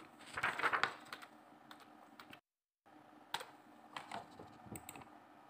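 Keys clatter on a computer keyboard as a registration number is typed into an online police constable application form, quick close bursts of clicks with a brief pause midway, fairly quiet and with nobody speaking.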